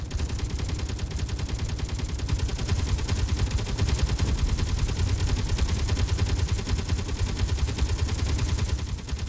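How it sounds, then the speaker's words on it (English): Continuous rapid automatic gunfire in Space Engineers, a loud, unbroken stream of closely packed shots that stays dense and close for the whole stretch, with no talk over it. "We just take fire."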